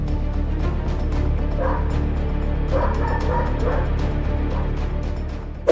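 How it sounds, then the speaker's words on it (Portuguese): A dog barks and yips at a leopard that has crept into a residential yard, the barking repeated and fairly close over a steady low background rumble. "O cachorro está tentando expulsar o leopardo daqui."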